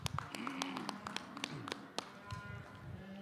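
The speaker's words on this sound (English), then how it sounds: "Let's give them a nice round of applause." Scattered hand claps and taps from an audience at an Ohio Shorthorn cattle show, a loose patter of applause lasting a few seconds with crowd murmur underneath.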